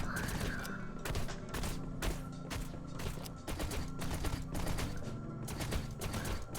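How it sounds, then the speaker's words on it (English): Assault rifle fire in a video game: dense, steady bursts of rapid shots run loud and continuous through the whole stretch, with no talking over them. "Oh, this is an assault rifle."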